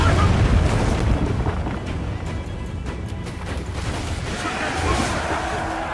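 Ship cannons boom during a naval battle with a brig in the Assassin's Creed IV video game, heavy low blasts rumbling continuously beneath shouted crew voices.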